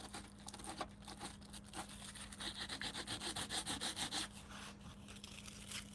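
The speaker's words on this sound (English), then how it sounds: "God, this sandpaper is a bit useless." Sandpaper rubbed back and forth over wood, with a steady run of rhythmic scratchy strokes in the middle, close and fairly quiet.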